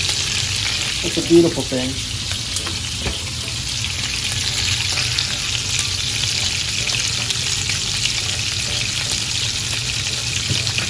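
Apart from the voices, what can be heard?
butter melting and sizzling in a pan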